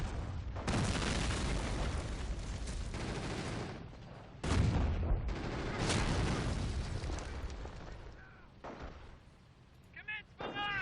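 Incendiary barrage shells burst in the Company of Heroes Blitzkrieg game, with dense, loud rumbling explosions and gunfire rolling on for several seconds, a sharp new blast mid-way, then fading into scattered smaller sounds.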